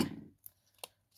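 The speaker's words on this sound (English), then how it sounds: "I think I'm going to cut a little bit off this." Scissors snip through a sheet of acetate for card making, a brief rustle followed by two short, crisp cuts, close and quiet with no speech.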